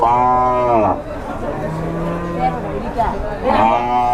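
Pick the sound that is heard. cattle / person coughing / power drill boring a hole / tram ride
cattle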